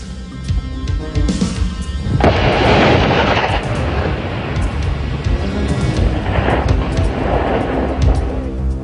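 Bangalore torpedoes, joined pipe sections packed with high explosives, detonate beneath barbed wire obstacles amid smoke grenades: a heavy blast erupts into a long rolling rumble, followed by another surge of booming.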